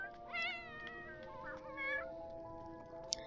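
A cat in The Sims 4 meows twice in quick succession, clear, tonal and moderately close, over a soft steady game background hum, ending with a brief click.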